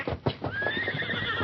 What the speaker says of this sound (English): Horses are scared. They smell it,